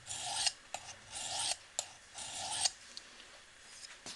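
A knife blade rasps along a sharpening stone at a set angle across the bevel in several long strokes, close and distinct, each harsh scrape separated by brief pauses and a few short taps.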